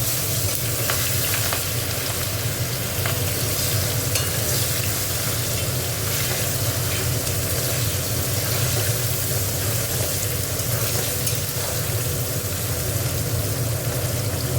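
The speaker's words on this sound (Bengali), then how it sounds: "পেঁয়াজটা একটু ভাজা ভাজা হোক।" Onions fry in hot oil with garam masala in a pan, a loud, dense, continuous sizzle with faint stirring scrapes, close up and steady throughout with no talking.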